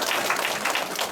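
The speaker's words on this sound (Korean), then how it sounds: "박수 한번 쳐주십시오" Audience applause in a third-floor lecture hall, a steady patter of many hands clapping at moderate distance with no talk over it.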